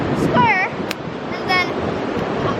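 Ocean surf washing up a beach as the tide rises, a steady broadband wash that swells and fades, with wind buffeting the microphone and brief voices and whistle-like sounds over it.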